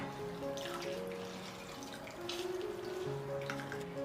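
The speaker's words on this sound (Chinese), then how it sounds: "我们加一点点清水，把这里面的盐分给它洗一下，然后给它挤干" Water runs and splashes over salted shredded radish being rinsed in a bowl at home, a steady close trickle with brief louder splashes and drips as the strands are washed.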